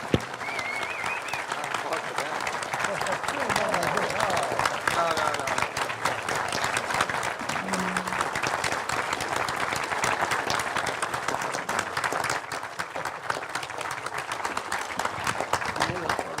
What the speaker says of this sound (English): Can I have a round of applause for these folks?